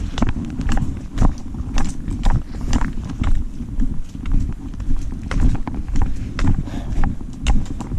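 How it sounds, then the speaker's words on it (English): Horse hooves clip-clopping steadily at a walking pace on a wilderness trail through puddles, close by, with repeated sharp knocks over a rumbling outdoor background. "Not taking the horses through here."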